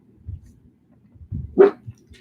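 A house dog gives a short, moderately close bark, with a few low muffled knocks and thumps before it and a faint trailing sound after.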